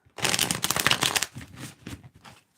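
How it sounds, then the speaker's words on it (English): A rapid riffling burst of cards being shuffled up close, followed by a few softer, shorter card flicks and taps. "I like these cards because they shuffle really nice."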